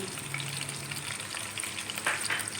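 Aloo gosht ingredients fry in a pot with a continuous soft sizzle and occasional stirring scrapes, close but fairly quiet, no voices.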